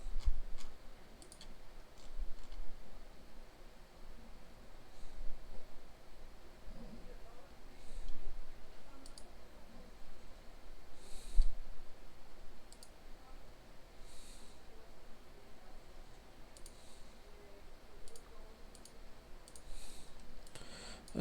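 Sparse mouse clicks while someone works in the AWS S3 web console, quiet and close, scattered singly and in small bursts over a low room hum.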